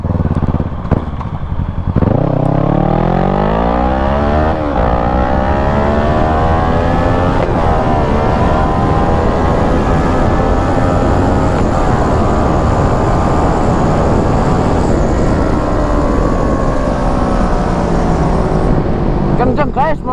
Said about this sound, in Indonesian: Kenceng guys motor ini guys.